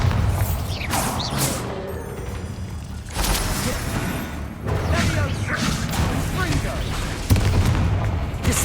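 A Bombarda spell explodes in Hogwarts Legacy, heard as loud booming blasts within dense combat noise, with sharp bursts recurring throughout.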